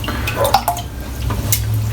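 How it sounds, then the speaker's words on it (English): Shaving brush dipped into cold water, giving a few soft drips and liquid splashes close by with a steady low hum underneath and no talking. "So I'll get it dipped in the water,"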